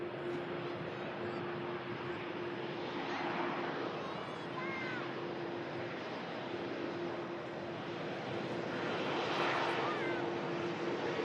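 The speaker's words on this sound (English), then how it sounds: "TUI Dreamliner's on the move." A TUI Boeing Dreamliner jet on the move, its steady engine roar broad and moderately distant, holding evenly throughout with a low tonal hum beneath and a voice talking over it.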